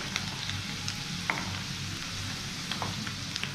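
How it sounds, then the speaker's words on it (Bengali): Fish pieces fry in hot oil at medium heat for chilli fish, a steady close sizzle with small pops and crackles and no voices. "মাছগুলো ভাজা হয়ে গেছে, এবার আমি তুলে নেবো"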